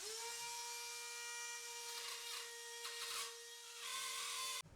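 Ryobi Rotozip spiral cutting tool routing through drywall around an electrical box, a steady high-pitched motor whine running alone and close with shifts in pitch as the bit cuts, then stopping abruptly at the end.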